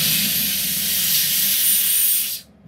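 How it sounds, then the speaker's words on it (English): An air compressor used for blowing fiber optic cable lets out a loud, steady hiss of air that cuts off abruptly just before the end. "Now we're going to fire up our air compressor."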